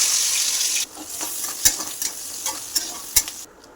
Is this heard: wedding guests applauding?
no